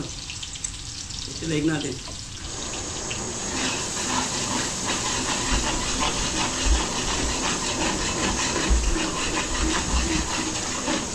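Garlic and onion sizzling in a hot pan in a busy restaurant kitchen, a continuous loud hiss and crackle that swells after a quiet start, with a voice talking over it.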